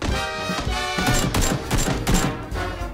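Rapid bursts of gunfire in the battle-royale video game PUBG, a dense run of loud repeated shots filling the whole stretch with almost no talk.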